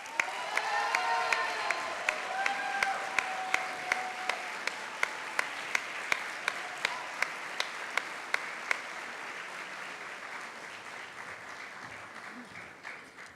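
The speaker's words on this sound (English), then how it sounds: "Join me in applauding the winner of the 2018 Chris Carey Customer Service Award, Juan Jose Bravo Romo." Sustained applause from an audience at a university awards ceremony for a customer service award winner, steady and moderately distant, with a few sharp individual claps standing out and a faint murmur underneath.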